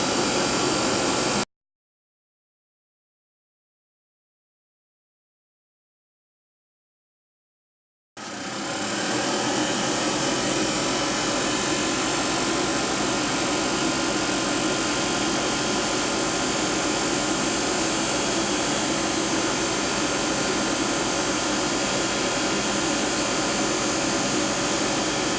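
A cotton candy machine turned down to 90 watts spins out sugar strings onto a cone, giving a steady, loud motorised whir with a constant hum that runs unbroken after a short silent gap.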